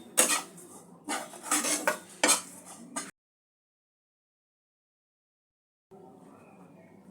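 Chickpea flour being dry-roasted in a pan for kachori filling, a spoon scraping and clinking against the metal in busy bursts for about three seconds, then a silence and a faint steady hiss.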